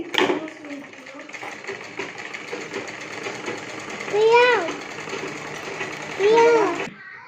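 An electric sewing machine runs steadily, stitching the seams of a child's lehenga with a continuous close whir, while a voice rises briefly over it twice.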